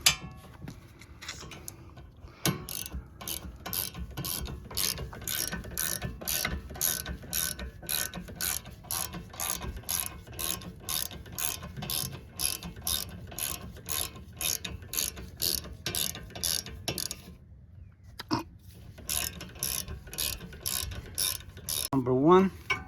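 Rapid ratchet clicking fills the air as caliper bracket bolts come off the rear brakes of a 2019 Ford Fusion Hybrid, a steady close run of sharp ticks with one short pause near the end.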